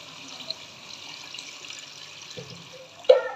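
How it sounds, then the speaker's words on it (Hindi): Water pours into mutton frying for korma, a soft, steady hiss and trickle with a faint splash and a sharper clink near the end. "अब इसमें मैं हस्बे ज़रूरत पानी शामिल करूँगी"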